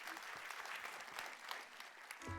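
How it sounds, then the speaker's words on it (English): An audience at a World Food Day health talk gives a short round of applause, a steady patter of many hands that is fairly soft and distant. "Give her a round of applause."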